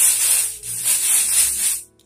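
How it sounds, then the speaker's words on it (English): Texturizing hair spray hisses from a can onto the front of a short pixie cut in three quick close bursts, ending in silence. "And I'm just gonna gently spray the front portion."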